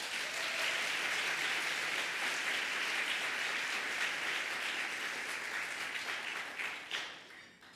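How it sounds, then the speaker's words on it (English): Sustained audience applause fills the room at a business luncheon keynote, steady dense clapping from a large crowd that holds level and then thins out and fades near the end. "So, Jessica, the applause does not count towards my 10 minutes, okay?"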